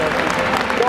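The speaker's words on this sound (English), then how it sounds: "Have a huge round of applause." An audience at the Gadget Show Live event at NEC Birmingham bursts into applause, a dense, steady wash of many hands clapping close by for just under a second.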